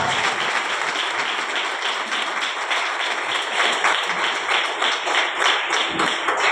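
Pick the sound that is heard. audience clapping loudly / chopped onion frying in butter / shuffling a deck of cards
audience clapping loudly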